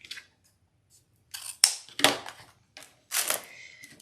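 Scissors snip through wraparound pieces from a Trendy Tree lemon craft kit in black. A handful of crisp, close cuts are heard, separated by short pauses, in a quiet room.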